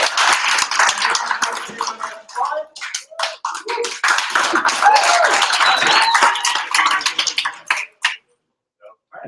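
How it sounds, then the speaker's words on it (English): Audience at a university hackathon judging night clapping for the event timer, a dense burst of claps that thins into scattered individual claps and stops, with voices and chatter mixed in. "Big round of applause for Pete."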